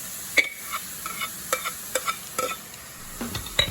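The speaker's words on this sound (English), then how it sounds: "Now we're gonna go ahead and add our tomatoes" Pureed imported plum tomatoes hit a hot pan for a ravioli lasagna sauce, giving a crackling sizzle broken by several sharp clicks and scrapes of stirring, close and fairly quiet.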